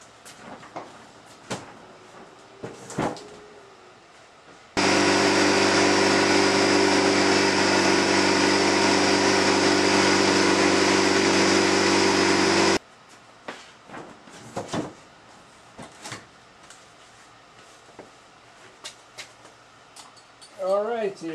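An HVLP woodworking air compressor cranked up and running: a loud, steady motor drone with a strong tonal hum lasting about eight seconds, then cutting off, with quieter clanks and handling noise before and after.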